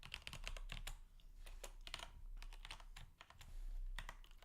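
Rapid, uneven keystrokes on a computer keyboard while CSS padding for a web page layout is being adjusted, steady clicking bursts close up with no talking.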